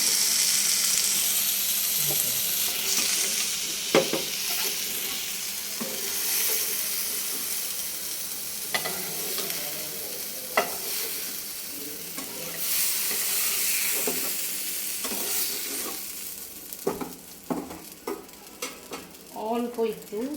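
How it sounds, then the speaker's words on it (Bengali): Steady sizzling of eggplant and potato frying in oil, with occasional stirring scrapes and clatters of a utensil against the pan, close up. "আলু বেগুন বেশি কড়া ভাজা লাগবে না এরকম ভাজলেই হইব"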